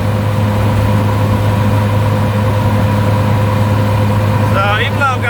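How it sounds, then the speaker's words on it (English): A Suzuki Samurai fitted with a 1.6 Geo Tracker 8-valve engine runs floored up a mild incline, giving a steady, loud, droning engine hum with constant tone throughout, and a brief voice near the end. "So even though I'm going to have it floored, it does have a pretty decent bit of torque to get up a mild incline without downshifting."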